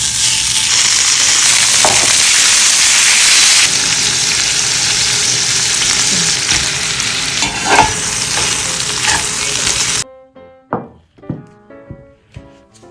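Loud, steady sizzling of pork belly frying in a pan for about ten seconds, then quieter clinks and taps of utensils.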